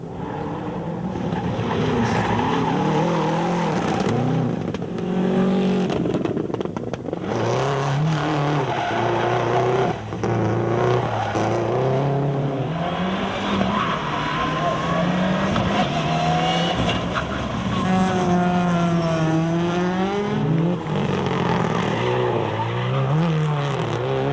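Rally cars such as a Mitsubishi Evo 6 and Subaru WRX race on gravel forest stages, with engines loudly revving and shifting through rising and falling pitches, tyres scrabbling, over several passes.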